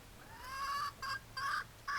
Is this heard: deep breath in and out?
no